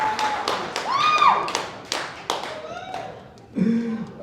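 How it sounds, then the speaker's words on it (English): Applause and hand claps from an audience at a youth sports awards ceremony, a burst of clapping with sharp taps under loud voices and a whistle, fading and then rising again near the end. "Y'all give these young men a hand"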